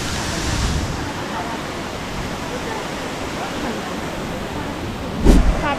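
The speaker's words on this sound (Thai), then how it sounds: "น้ำตกสาลิกา น้ำลึก" Sarika Waterfall in Nakhon Nayok, Thailand, gives off a steady, full roar of falling water that fills the whole stretch evenly, with a short louder burst near the end.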